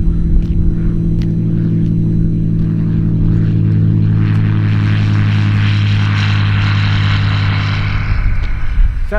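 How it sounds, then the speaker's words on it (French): A small propeller airplane passes over an airfield at an abandoned Soviet base, its engine a loud, steady drone that holds throughout. "Ah, avion."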